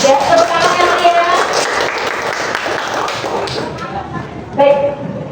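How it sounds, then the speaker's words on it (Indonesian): Audience applause for group 3 at a classroom discussion session, a broad steady wash of clapping lasting several seconds with a fresh burst near the end, under an announcer's voice. "tepuk tangan yang meriah"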